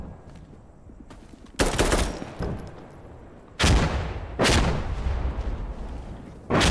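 Several loud, close bursts of automatic gunfire in the Insurgency Sandstorm shooter, arriving in separate volleys with quieter gaps and a steady background rumble between them.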